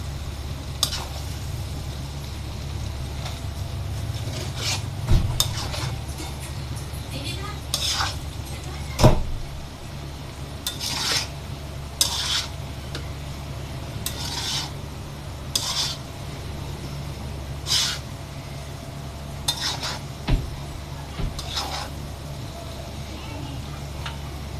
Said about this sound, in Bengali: মশলার সাথে নুডলসটা মিক্স করে নেব যাতে কোনো জায়গা সাদা না থাকে